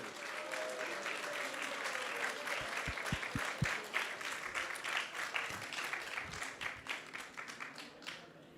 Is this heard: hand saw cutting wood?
no